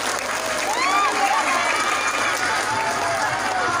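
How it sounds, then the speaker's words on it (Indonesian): An audience at an Islamic sermon in Dukuhringin breaks into loud, sustained clapping mixed with whistles and cheers that fill the whole stretch. "Tepuk tangan dulu dong buat Banser."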